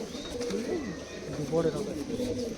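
Royal Teddy pigeons coo in a loft, soft rolling coos repeating close by while someone talks over them.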